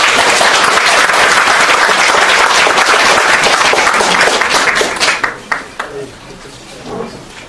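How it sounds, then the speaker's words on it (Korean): Audience applause welcoming guests to a talk show event, loud and dense for about five seconds before thinning into scattered claps. "큰 박수 부탁드리겠습니다"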